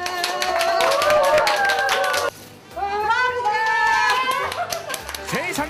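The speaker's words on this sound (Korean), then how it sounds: "자 박수." A group of hikers on an autumn mountain summit clap their hands together in a loud, dense burst of applause, which stops abruptly and then resumes with cheering voices and talk.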